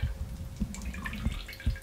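Juice drips from ground onion as it is squeezed by hand, a handful of small irregular drips and wet squelches, close and fairly quiet, with no talking.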